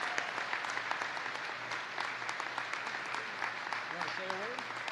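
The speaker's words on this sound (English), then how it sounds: "would you all give a big round of applause to Lexi Heitzman" A factory audience applauds Lexi Heitzman during a visit by the Vice President to a Pennsylvania factory: sustained, dense clapping from a large crowd in a big room, steady throughout, with a voice briefly audible beneath it.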